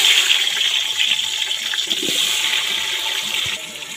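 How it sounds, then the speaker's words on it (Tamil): Onions sizzle in hot oil with cinnamon, cloves and cardamom while cooking outdoors on a hill, giving a constant bright, close frying hiss with faint crackles and no speech. "இப்போ வந்து வெங்காயம் சேர்த்துக்கலாம்"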